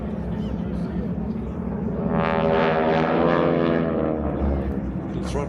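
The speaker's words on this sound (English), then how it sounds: "The big old 1340 radial, 600 horsepower, these machines" Warbird with a big old 1340 radial engine of 600 horsepower at an airshow in Wanaka, New Zealand, droning steadily and swelling louder as it passes, with a commentator talking over it.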